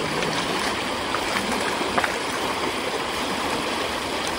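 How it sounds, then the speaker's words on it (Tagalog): Water fetched and poured into containers on a mountain farm, heard as a steady, close rushing and splashing with no gaps. "si mama nag-iigib ng tubig"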